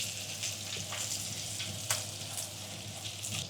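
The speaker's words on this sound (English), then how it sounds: "The burgers are almost ready, so now we're adding butter." Butter sizzles in a pan beside hamburgers frying, giving a quiet, even crackle with a few soft pops.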